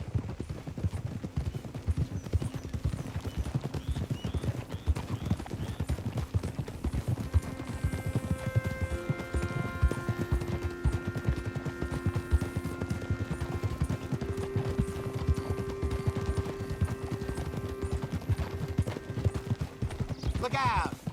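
Horse hooves clip-clop steadily in Red Dead Redemption 2, a close, continuous trotting rhythm. Talk and a faint musical score run over it.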